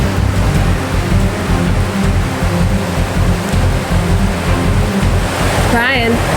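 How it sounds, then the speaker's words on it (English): A river rushes at the bottom of a gorge along the Blue Ridge Parkway, a loud, dense and constant roar of flowing water that fills the whole scene, with a brief whistle-like sound near the end. "we just got to the river, got down to the bottom of the gorge"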